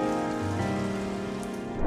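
Steady rain falls throughout, with a constant close hiss of drops and a tonal, music-like bed underneath. No one speaks.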